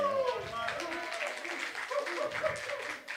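Scattered classroom clapping, moderately faint and continuous, with voices talking over it.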